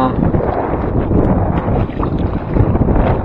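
Gusting wind buffets the microphone as choppy sea water slaps around a fishing kayak out at sea, a dense, loud rumble that never lets up.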